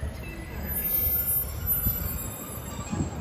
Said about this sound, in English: Arriving now is a 12:26 Northern service from Saltburn to Bishop's Auckland.